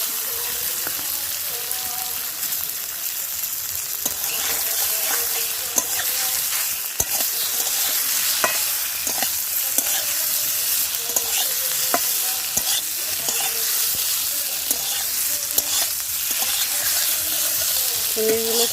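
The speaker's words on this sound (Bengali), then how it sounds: "এবার পনিরগুলোকে ভেজে নেব।" Paneer cubes coated in turmeric and salt fry in mustard oil in a kadai, a steady close sizzle throughout with occasional stirring scrapes and clinks, no talking.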